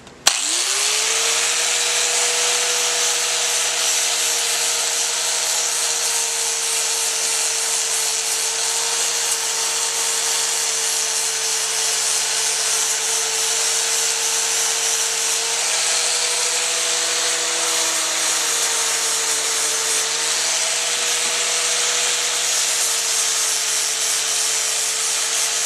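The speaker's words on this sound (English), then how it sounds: "But with this, it'll actually sand the metal off." A power sander grinds burrs off a metal ceiling fan blade, holding a loud, steady abrasive whine with a sustained motor hum for the whole stretch, close and alone with no talking.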